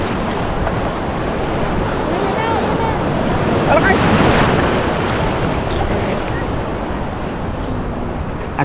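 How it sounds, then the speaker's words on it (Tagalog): Sea waves washing on a beach, a continuous rushing surf with gusty wind noise across the microphone, loud and close, swelling briefly midway with no talking. "Nandito tayo sa dagat."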